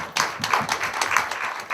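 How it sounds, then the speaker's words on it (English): Audience applause at a film festival event, a dense burst of clapping from a crowd lasting under two seconds, steady and fairly close with no voices over it. "Let's give Will Hoppin a round of applause."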